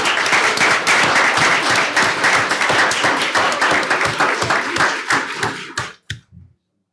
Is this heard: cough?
no